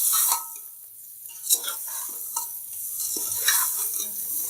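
Potatoes for a fried chana chaat sizzle and fry in a pan while a spoon stirs them, with scraping stir strokes and clinks of utensil against metal over a steady crackling hiss.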